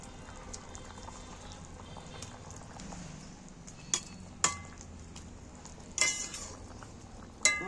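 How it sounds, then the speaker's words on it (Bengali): Fried fish going into a simmering pointed gourd curry in a pan, a quiet bubbling simmer broken by several sharp knocks and clatters of a utensil against the pan. "এবার ভেজে রাখা মাছগুলো তুলে দিচ্ছি।"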